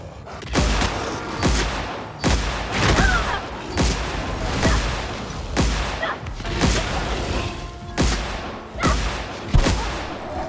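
A plasma gun fires repeatedly in The Outer Worlds, loud booming shots about once a second with echoing tails between them.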